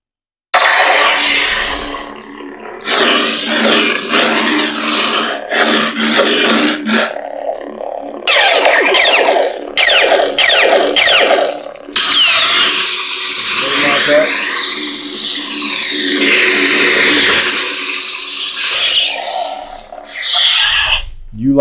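A Neopixel lightsaber fitted with a Proffie board and a 7/8 inch blade powers up and plays its sound effects: rasping hums, swishes and crackling bursts that come close and loud, nearly nonstop, with short pauses between the effects.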